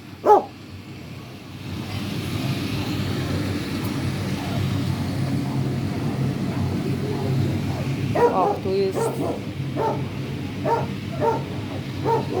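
Dogs at an animal shelter in Germany bark in short bursts, a cluster of sharp barks coming late, over a steady background hum while a voice talks nearby.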